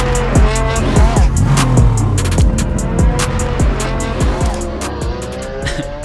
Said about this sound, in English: TPain started drifting like that in professional competitions